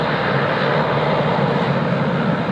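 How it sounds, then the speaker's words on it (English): Singapore Airlines airliner pushing back at Sydney Airport, a loud, steady engine roar filling the whole moment without change, heard from nearby. "Singapore in the Star Alliance livery, just pushing back now."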